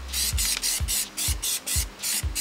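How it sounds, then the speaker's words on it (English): Plasti Dip sprays onto a car wheel still mounted on the vehicle, in a rhythmic series of about nine short hissing bursts separated by brief pauses, close and alone. "when you're spraying a wheel that's still on the car"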